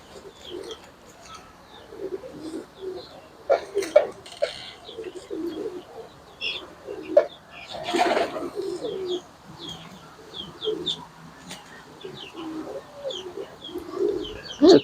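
A pair of Chinese Teddy pigeons coo in soft repeated low phrases, close by, mixed with faint chirps from other birds and an occasional brief rustle or flap.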